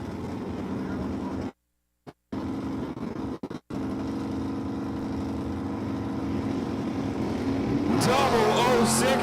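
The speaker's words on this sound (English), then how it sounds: "Fix over here in the Dart Land Pro left lane. Going down track against the Camaro of Pop." A Dodge Dart and a Chevrolet Camaro race down the Empire Dragway track at a WDRA gasser event, their engines a steady loud drone with brief dropouts that swells into a harsher roar near the end.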